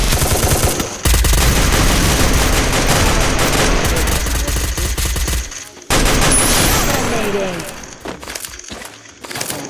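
Rapid automatic gunfire in a battle royale video game, loud dense bursts with a sharp crack and break in the middle, while a player talks over the shooting.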